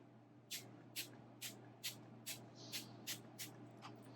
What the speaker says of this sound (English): I'm gonna give it a spritz or two